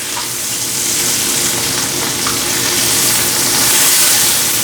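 Salmon fillets sizzle steadily in a hot pan, a loud, continuous broadband frying hiss holding for a few seconds with no voices over it.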